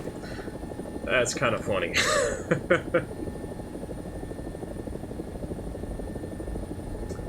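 An AB 205 helicopter flies in the DCS combat simulator, its rotor and turbine giving a steady, close, droning whir throughout, while someone talks briefly over it near the start.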